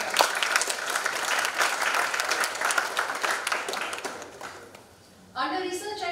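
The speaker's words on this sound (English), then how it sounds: "A big round of applause for them." Audience applause for students who cleared the GATE exam at an engineering college annual day, a sustained wash of clapping for about five seconds that fades out before a voice resumes.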